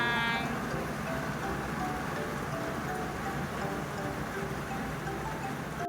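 Dense, steady downpour of heavy rain drumming on a car, heard from inside, continuous and close, with no voices.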